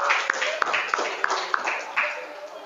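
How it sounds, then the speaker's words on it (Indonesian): Classroom applause, students clapping together at a teacher's prompt; a run of sharp, fairly regular claps sounds close by over continuous children's voices. "Tepuk tangan untuk kita semua."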